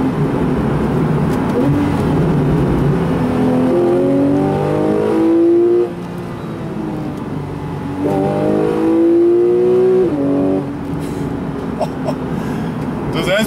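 A 2012/2013 Porsche 911 Carrera S PDK accelerates hard out of road corners, its engine note climbing in rising sweeps and dropping sharply at quick gearshifts, loud and close, with a voice speaking over it.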